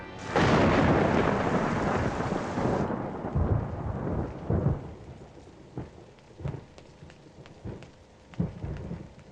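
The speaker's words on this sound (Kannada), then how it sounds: "ಮಳೆ ಬರ್ತಾ ಐತೆ" Heavy rain pours at close range with rolling thunder in a film scene, loud and dense at first, then dropping to a steadier patter broken by several sharp cracks and rumbles.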